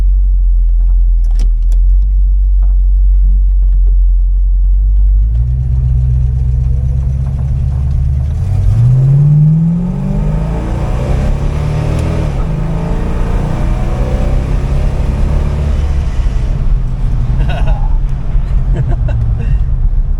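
A 1968 Dodge Coronet 500 with a 440 big-block V8 accelerates on a test drive, heard from inside the car. A steady low rumble builds into loud, rising revs, then settles into a strong cruise drone.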